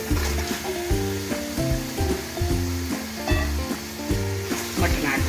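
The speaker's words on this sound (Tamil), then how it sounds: "இந்த டைமில் மட்டன் ஆட் பண்ணிக்கலாம்" Mutton pieces frying with sautéed onions in a pan for white mutton biryani, a steady loud sizzle with repeated stirring and scraping strokes throughout, no talking.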